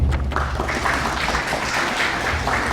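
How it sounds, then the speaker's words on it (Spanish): An audience at a medical lecture applauds steadily, with dense clapping that holds at an even level from start to finish. "Le damos un fuerte aplauso, por favor."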